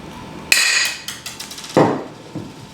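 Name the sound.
D700C blind Cherry Max rivet tool being pumped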